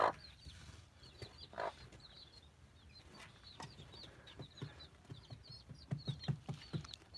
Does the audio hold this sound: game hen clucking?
yes